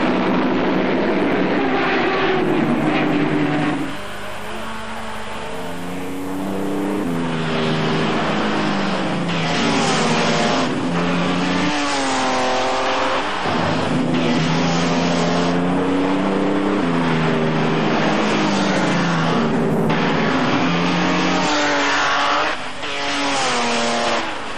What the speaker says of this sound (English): In spite of the new Maseratis, Alfa Romeos, and the hideous but effective Delahaye, the Mercedes shot into the lead from the start.